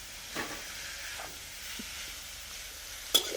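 A soft continuous sizzle of duck skin frying in a pan until crispy, with occasional stirring scrapes and a sharp clank near the end.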